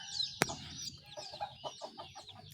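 Hens and chicks cluck in a freshly cleaned coop, a sharp knock early, then a series of short nearby clucks and peeps over a soft background of other fowl.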